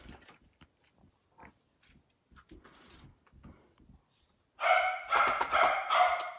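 A dog barks loudly in a rapid burst of repeated barks near the end, after a stretch of quiet with faint scattered sounds, heard indoors close by.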